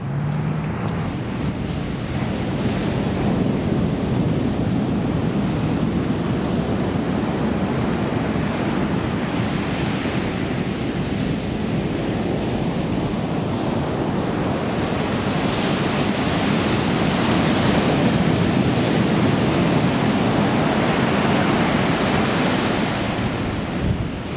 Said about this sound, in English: So, got to see the ocean.